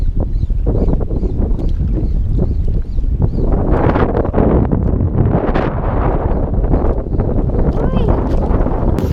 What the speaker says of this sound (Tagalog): hindi natin kinaya yung hangin, grabing lakas na.